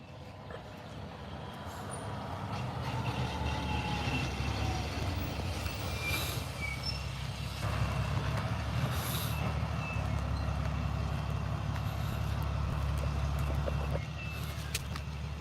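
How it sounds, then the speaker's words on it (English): A large truck rumbles past on a residential street during a neighborhood walk, a steady low engine drone holding loud and close throughout. "Truck."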